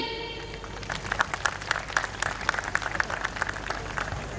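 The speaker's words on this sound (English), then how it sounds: "Let's have a huge round of applause for him." Applause from the audience at a high school annual day celebration in Virar, brisk, sustained clapping from a crowd with a sharp, busy texture throughout.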